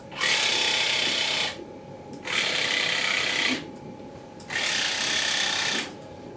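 Business card pressed against a spinning driveshaft on a driveshaft angle trainer gives a steady buzzing, rattling flutter in three bursts of about 1.5 seconds each. Between the bursts a quieter mechanical hum continues.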